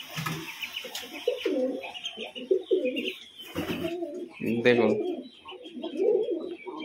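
Pigeons coo and call repeatedly in a loft, with low throaty coos and some higher chirps rising and falling over several seconds while someone talks over them.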